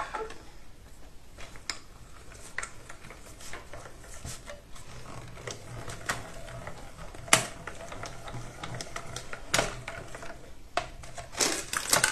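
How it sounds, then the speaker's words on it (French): A mini die-cutting machine cutting card, with steady mechanical cranking and ratcheting punctuated by sharp clicks and clacks, close and moderately quiet. "la mini machine de découpe"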